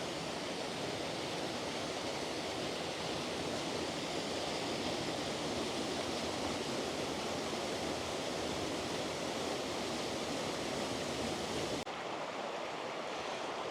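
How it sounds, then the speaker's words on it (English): The final waterfall in Dhoon Glen on the Isle of Man, a constant loud rushing roar of falling water with no pauses, filling the whole span and dropping slightly near the end. "the final waterfall in the glen"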